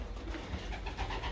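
Racing pigeons coo softly in a loft, low murmuring calls overlapping in a close, continuous burble.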